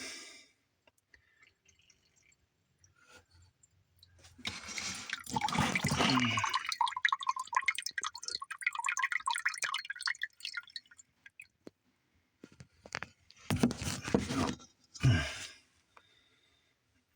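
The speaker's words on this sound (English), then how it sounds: "All right, there's some water dripping out." Water drips and splatters from fixtures during a master bathroom demolition in irregular bursts, with a longer run of trickling in the middle and a few sharper splashes near the end, all fairly faint.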